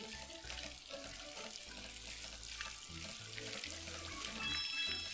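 Water gushes and splashes in a Super Mario Party pumping minigame, a steady watery hiss running under bouncy game music with no talk.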